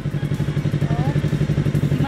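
A motorcycle engine idles and revs steadily in a low, pulsing rhythm throughout a clutch riding lesson, close and continuous under a light clatter.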